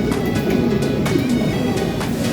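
Low, soft cooing of racing pigeons repeats steadily over a constant background hum, with a few faint higher noises, as the birds gather to bathe.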